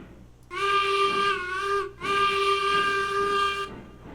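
Two long, loud blasts of a steam locomotive whistle in the Railroads Online video game, each a steady chorded tone of about 1.5 seconds separated by a brief gap, with no talk over them.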